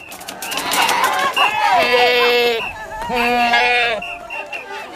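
Goats bleat in two long, wavering, strongly voiced calls close by, with talk and other activity around them at the start.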